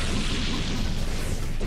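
A fire-style jutsu attack in the Naruto Konoha Legends fighting game lets out a broad, roaring blast that rumbles without a break for under two seconds, loud and close, with no talking over it.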